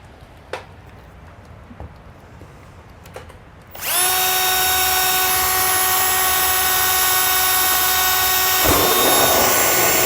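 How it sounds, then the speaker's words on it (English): A power drill bores a hole through the wall of an enclosed trailer; after a few light knocks, the motor spins up with a loud, steady high-pitched whine that runs nonstop for about six seconds. "I'm going to drill another hole back here that's going to be hidden behind our metal flashing"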